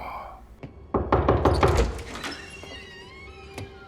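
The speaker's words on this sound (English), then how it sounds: "But Andy hears a knock on the door." A few sharp knocks on a door, close and fairly loud, with soft background noise and a faint voice underneath.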